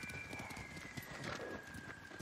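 Horse hooves clop in a steady, rapid rhythm in Ghost of Tsushima, faint and continuous, with a thin tonal hum running through the background.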